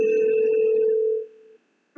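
A telephone call tone sounds as a steady loud hum for over a second, fades out, then briefly restarts at the very end.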